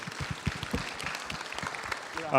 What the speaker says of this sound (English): Let's applaud him for his service, too.